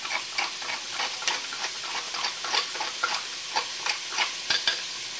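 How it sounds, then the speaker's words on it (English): Roast ingredients are stirred in a hot Dutch oven, with a steady sizzle under rhythmic scraping strokes that repeat roughly every half second, close and clear. "we're going to give them a quick little stir in there"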